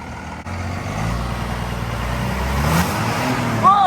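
A rare first-generation Cummins turbo diesel in an abandoned mini semi idles with a steady low rumble that gradually builds as the engine is revved, loud and close, with no talk over it.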